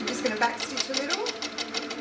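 An HQ Sweet Sixteen sewing machine backstitches a quilt seam with a rapid, even needle chatter close by, while someone talks over it.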